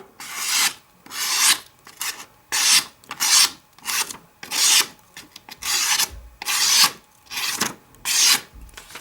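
Hand polishing of a forged knife blade of Kh12MF steel, a rasping rub repeated in about a dozen regular back-and-forth strokes, close and loud, with no voices.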